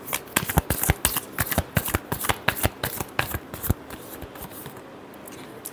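A deck of tarot cards riffled and shuffled by hand, a fast run of crisp snapping flicks close to the microphone that slows and trails off after a few seconds, with no talking.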